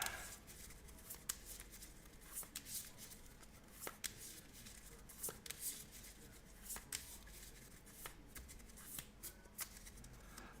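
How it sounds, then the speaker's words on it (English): A deck of cards for the Marvel Champions card game being shuffled close by, a long run of crisp riffling and snapping card noise in irregular bursts, with no voices. "And then shuffle your deck."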